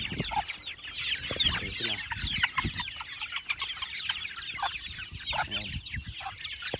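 Healthy chicks at a mid-day snack, a dense continuous chorus of clucking and peeping close by, with someone speaking briefly over it.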